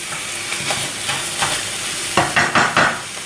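Minced meat for lasagne sizzles steadily in a hot pan while a utensil stirs and scrapes through it, with a cluster of sharper, louder scraping strokes near the end.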